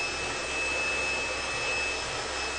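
A hot blow dryer warming a section of hair during a protective blowout, producing a steady, loud, close airy roar with no pauses.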